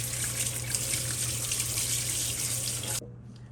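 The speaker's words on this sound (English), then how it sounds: "Cool them down with cold water." Cold tap water running into a sink to cool boiled salt mackerel, a steady close hiss and splash with a low hum underneath, then cut off abruptly near the end.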